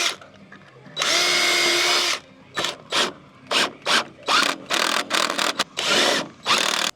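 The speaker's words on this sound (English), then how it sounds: "For the crosses, I like to pre-drill to get it started." A power drill pre-drills holes in wooden deck framing, starting with one sustained whir, then a run of short bursts with quiet gaps between them, close and loud.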